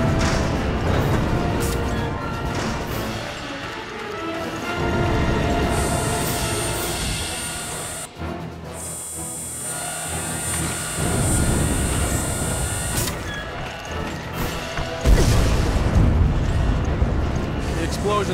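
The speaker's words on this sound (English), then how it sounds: "Explosions have started." Deep rumbling blasts and crashing roars on a ship from the game Resident Evil: Revelations, loud and sustained, with a voice speaking over parts of the din.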